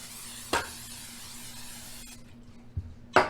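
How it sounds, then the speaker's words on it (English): Cooking spray goes into an angel food cake pan in two short, sharp hissing bursts, one early and one at the end, over a quiet kitchen background with a faint steady hum. "I just spray it again with the same stuff I sprayed my"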